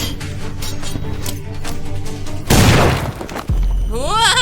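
A loud grenade explosion in a video game bursts with crackling, shattering debris amid game sounds, followed by a low rumble and warbling tones.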